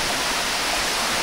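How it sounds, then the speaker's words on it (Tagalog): Steady rushing water pours from a spring water source, a dense, even wash of flowing sound that is close, moderately loud and unbroken, with no voices. "Ito na pala yung source siya ng tubig."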